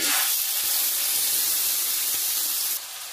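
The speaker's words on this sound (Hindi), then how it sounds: "अब मैंने जो तुर्किश चिकन कबाब रेडी किए थे ये मैं इसमें डाल दूँगी" Turkish chicken kebab sticks hitting a pan with a tablespoon of hot oil over a low to medium flame, a loud, steady bright hiss and sizzle that drops slightly near the end.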